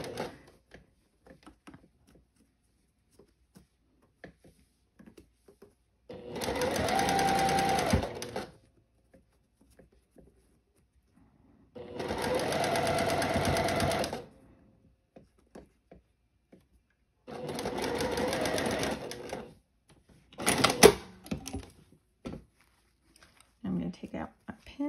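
A sewing machine stitching a floral sundress runs in three steady whirring bursts of a couple of seconds each, separated by near silence, with a short clattering rattle near the end and faint talk in the pauses.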